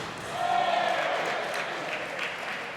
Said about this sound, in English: A roar goes up from the pro-HOMER crowd here as HOMER attacks in preparation.